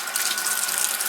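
Tap water runs steadily into a sink as hands are washed, a continuous close hiss of flowing water with no talking.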